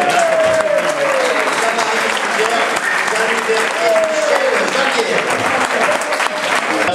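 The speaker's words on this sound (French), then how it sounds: "sous les applaudissements du public" A crowd claps steadily and loudly throughout at a podium ceremony, with a voice speaking in French over the applause through an amplified system.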